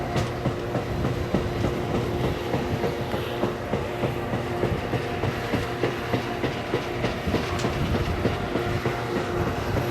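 A train rumbles past with rhythmic clickety-clack of wheels on rails, a continuous steady roll at moderate distance, no voices.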